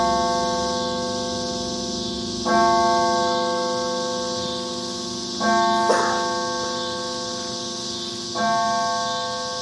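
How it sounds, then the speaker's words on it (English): A deep church-style bell tolls in a staged Macbeth production, three loud struck rings spaced about three seconds apart, each ringing out with long sustained harmonic hum that slowly decays, heard alone. "The bell invites me."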